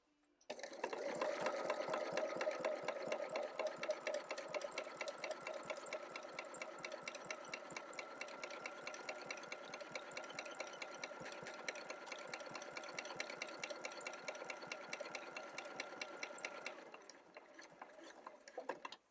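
Sewing machine stitching binding onto a quilt, a steady fast mechanical chatter running continuously for most of the stretch before slowing and stopping near the end, close and alone with no talk.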